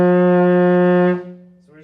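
A baritone euphonium holds an open F, played with no valves pressed, as one loud, steady brass tone for over a second before it fades. A faint short sound follows at the end.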